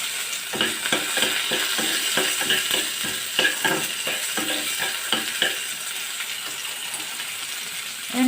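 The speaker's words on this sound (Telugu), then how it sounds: "నేను మినప్పప్పు, అండ్ వెల్లుల్లి రెమ్మలు వేస్తున్నాను." Urad dal and garlic cloves fry in hot oil, giving a steady close sizzle with repeated scraping and stirring taps from a spoon in the pan.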